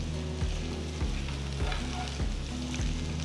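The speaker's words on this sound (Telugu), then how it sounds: "పొయ్యిని మీడియం ఫ్లేమ్లో ఉంచి వీటిని మంచి గోల్డెన్ బ్రౌన్ రంగులోకి వచ్చేంత వరకు వేయించాలి." Taro root (colocasia) pieces fry with crushed garlic in a pan over medium flame, a steady loud sizzle with periodic scraping stirs about every half second to second, no voices.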